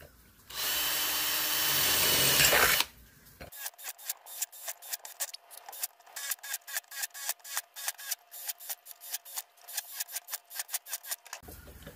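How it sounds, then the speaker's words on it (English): A power drill whirs for a couple of seconds, then many quick sharp clicks and rasps follow in a rapid rhythmic run as a 3/16 inch bit drills a series of holes in the bottom of a tin soup can. "we're gonna take a 3/16 inch bit and we're just gonna drill a"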